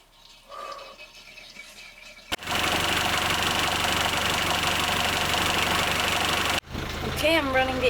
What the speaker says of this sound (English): I'm running the engine now to get the oil going through